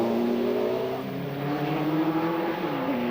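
TVR Tuscan race car with an AJP engine, held at high revs during a race at Spa, giving a steady, loud, sustained engine howl with slight pitch shifts and no talk over it.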